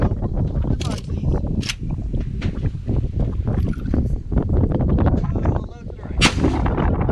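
Rifle shots from a 30-30 firing soft point rounds into concealable soft body armor, loud sharp reports at a range with booming echoes, people talking in between.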